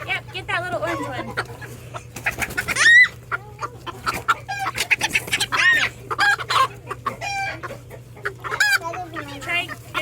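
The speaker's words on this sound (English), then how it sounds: "trying to catch the chickens" Small backyard chickens, including a little orange one and a white one, cluck and squawk close by in bursts while children chase and try to catch them, with voices talking over the birds throughout.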